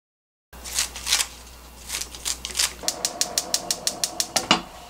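Kitchen scissors snip through ingredients for a Korean naengi bulgogi dish, a run of sharp close clicks and cuts that speeds into a quick, even series of snips near the end.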